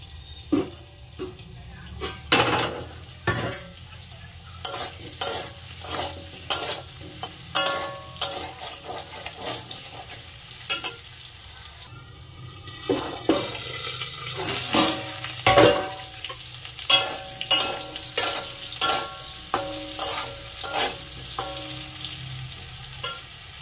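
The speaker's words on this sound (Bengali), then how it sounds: "ঢাকা দিয়ে একদম নরমাল জলে আমি একটু টাইম নিয়ে আলুটা ভাজবো" Potatoes fry slowly in a covered pan with a little water, a steady sizzle broken by frequent sharp clatters and scrapes, growing denser and louder in the second half.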